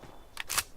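Weapon reload in BGMI, a quick pair of crisp metallic clicks, faint and brief, close to the ear.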